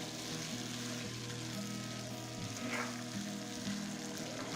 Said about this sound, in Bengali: এবার মাছটা তেলের মাঝে লাল করে ভেজে নিতে হবে।